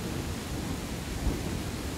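Thunderstorm in the Land of the Vikings video game while fishing: steady rain hiss with a low rumbling undertone and a brief thump, moderately loud and with no talking.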